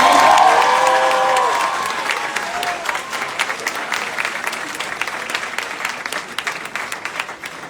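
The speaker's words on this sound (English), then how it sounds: "can we give another round of applause for our keynote speaker?" Audience applause for a keynote speaker at a Binghamton University event, loud and dense at first with a few cheers, then gradually thinning into scattered claps over several seconds.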